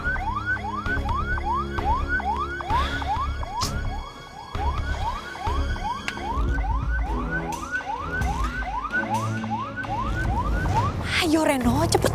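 An ambulance siren wails in a steady repeating rising sweep, close and loud throughout, with other traffic and street noise underneath and a brief squeal near the end.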